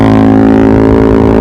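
A Honda Sonic motorcycle's exhaust runs on the road with a smooth, soft, steady drone, loud and close throughout, with no voices.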